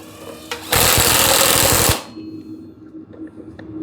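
A power tool runs a nut down during an engine swap on a car with a blown engine, giving one loud, close burst of rattling impact hammering that lasts just over a second before cutting off into quiet shop ambience.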